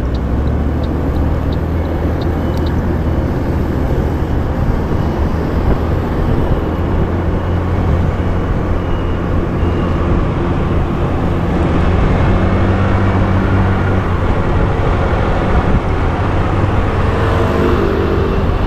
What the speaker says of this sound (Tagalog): Dami pong mga sasakyan.